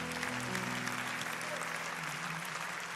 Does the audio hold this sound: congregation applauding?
yes